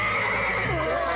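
A cartoon horse lets out a single loud, close whinny, its neigh quavering and falling in pitch over about a second with nothing else around it.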